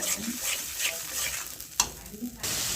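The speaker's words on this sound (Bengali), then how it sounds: "এ পর্যায়ে আমি এই জলে রাখা যে মশলাটা সেটা দিয়ে দিচ্ছি" Soaked ground spice paste frying in a little oil in a pan, a soft, fairly quiet sizzle with light stirring scrapes and one sharp knock partway through, no talking.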